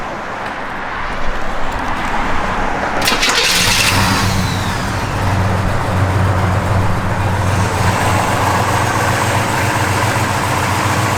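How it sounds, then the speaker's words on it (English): A 1970 Chevrolet Chevelle SS big-block V8 cranks and fires, then settles into a loud, steady, rumbling idle close by with no talking. "Healthy big block, guys. This thing runs out strong."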